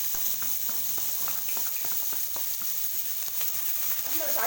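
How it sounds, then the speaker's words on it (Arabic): Finely chopped onion hits hot oil in a pan, giving a steady close sizzle with scattered crackles and a few soft clicks of stirring throughout. "هننزلها على طول على الزيت"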